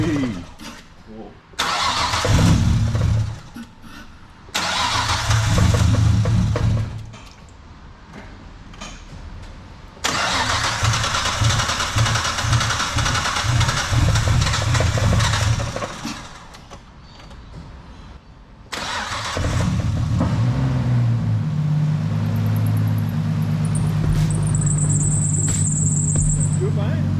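A drift car's engine, freshly repaired after a head gasket job, cranks and fires into life, settling into a rough, loud idle with revs rising and falling, while people talk and cheer nearby.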